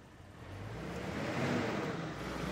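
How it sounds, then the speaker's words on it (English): A red open-top car starts off with a light engine sound, a soft, low hum that slowly swells as it pulls away, quiet and steady with no voices. "Raising a light engine noise, the red open top started running."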